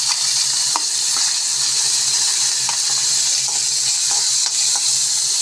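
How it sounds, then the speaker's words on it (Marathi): Onion frying in half a spoon of oil in a kadhai makes a continuous bright sizzle, broken by occasional stirring clicks and scrapes, with no talking. "अगदी नॉर्मल अर्धा चम्मच मी तेल टाकलेले आहे. आता आपण त्याच्यामध्ये हा कांदा,"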